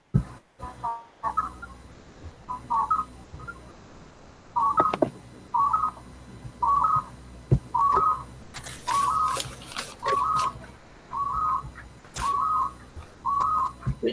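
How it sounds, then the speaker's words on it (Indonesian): A bird sound heard over a phone line as a repeated clear whistled chirp, about ten short, evenly spaced notes, loud and close, while a few brief voices sound faintly nearby. "Ini suara burung ya?"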